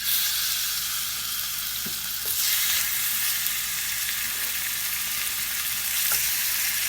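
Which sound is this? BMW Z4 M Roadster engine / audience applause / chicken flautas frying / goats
chicken flautas frying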